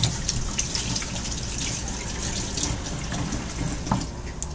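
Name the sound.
water running from a sink tap while washing hands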